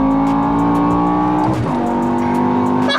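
A tuned, modified BMW E60 M5 with a carbon fiber CSL intake revs loud and close, holding a steady high engine note, dipping briefly as the revs change, then climbing again into a strong induction roar.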